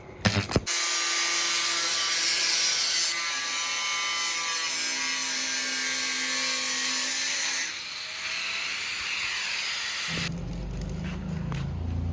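Power cutter trimming excess metal plate on a car hood, a loud sustained grinding whine close by that drops slightly near the end, followed by a lower rumbling tool sound, no voices.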